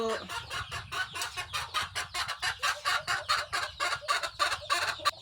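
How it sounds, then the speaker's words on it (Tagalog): A flock of chickens clucks busily and continuously, rapid overlapping clucks close by, loud and steady. "Ingay ng manok."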